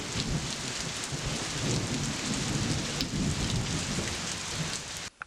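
Heavy rain pours steadily at night over a campsite, a dense, even roar of drops on surfaces that holds constant throughout before cutting off abruptly at the end.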